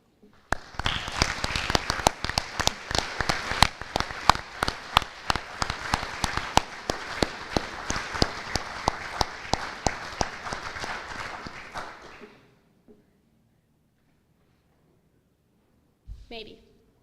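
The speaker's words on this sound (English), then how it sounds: "give him a big round of applause as he comes to the stage to receive his plaque" Applause at an FFA banquet as an award recipient walks up to collect a plaque: dense, steady clapping from a large room for about twelve seconds, then it stops, with a brief sharp sound near the end.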